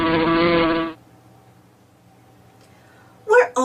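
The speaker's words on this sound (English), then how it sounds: "Do you know what makes a buzzing sound? In Spanish we say abeja, and in English we say bee." A bee buzzing sound effect from a Dora the Explorer read-aloud storybook: a faint, steady, thin buzz sustains for a couple of seconds between stretches of a voice talking.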